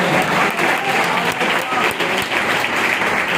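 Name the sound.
congregation clapping to thank God at church anniversary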